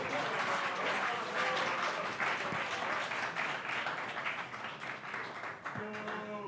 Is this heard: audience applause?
yes